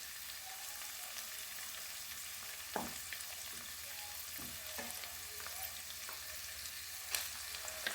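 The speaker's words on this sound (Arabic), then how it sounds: "راح نحمس المعجون ويا اللحم" Minced meat and tomato paste sauté together in a pan for a green broad bean dish, with a soft, even frying crackle and occasional distinct scrapes and knocks of a stirring spoon.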